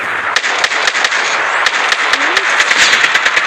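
Rapid bursts of gunfire in the Call of Duty Mobile video game, sharp repeated cracks in quick succession, loud and close, with a voice calling out briefly between the shots.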